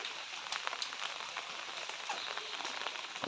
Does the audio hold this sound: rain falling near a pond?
yes